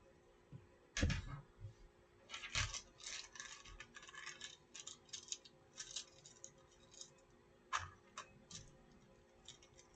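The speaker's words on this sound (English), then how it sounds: "I am just cutting out the top here" Scissors cutting out a fabric top for a sewing project: crisp snipping blade strokes in irregular bursts, close and fairly quiet, with a few heavier thuds, no talking.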